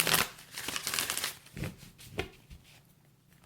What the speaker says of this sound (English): That was my last shuffle.